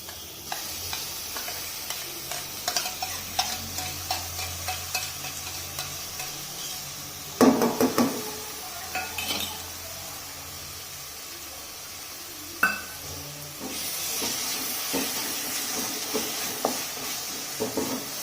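A paste of chili, garlic, coconut and sesame fries with stuffed brinjal in a pan, a steady sizzle broken by stirring scrapes and a few clunks of the spoon against the pan, with no talking.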